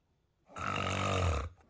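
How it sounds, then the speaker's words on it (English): A man snores once in his sleep, a single long, rattling, throaty inhalation lasting about a second, close and loud against near silence. "So I snore really bad, and I always knew that I did."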